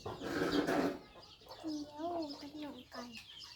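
Chickens cluck nearby in short, fairly quiet calls, heard alongside people talking.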